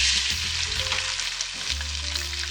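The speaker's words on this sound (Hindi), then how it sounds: "हमारा ऑयल जो थोड़ा ठंडा हो चुका है, अब मैं थोड़े से इसमें डालूंगी चावल" Rice tipped into oil or ghee that has cooled slightly, sizzling and frying steadily and loudly throughout, with some stirring. No voices.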